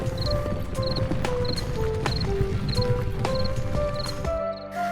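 Steady clip-clop of hooves trotting along over a constant rustling background, with faint high chirping insects and an occasional creak.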